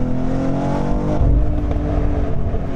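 A 2022 BMW X3 M SUV engine revs hard under acceleration, with a dense, loud growl that swells and dips as the transmission downshifts, heard up close with no talking.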